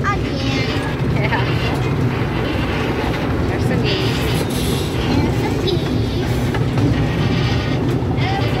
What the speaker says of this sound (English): And our train ride's good too.